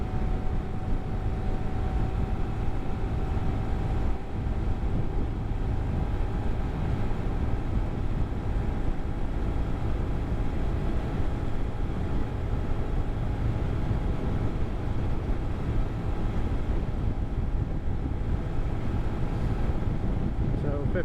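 Honda Grom motorcycle ridden at high throttle around 59 mph, a loud steady engine drone with constant buzzing pitch mixed with heavy wind rush, unbroken and close throughout.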